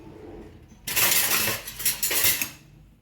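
A spoon scrapes and clinks against a metal pot while stirring a homemade shampoo mixture, a steady close run of rattling, scraping strokes with no talking.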